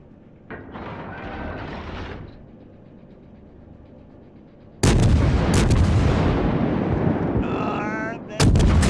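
Battleship main guns fire in the video game World of Warships, with a quieter opening of game sounds followed by a loud booming salvo and a second heavy blast near the end.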